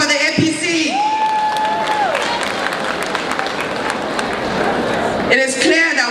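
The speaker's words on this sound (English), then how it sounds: "Can we clap for the APC?" Crowd at a women's political conference in Nigeria claps and cheers loudly, with whoops and high shouts rising over dense steady applause that continues throughout, briefly dipping before swelling again with more cheering.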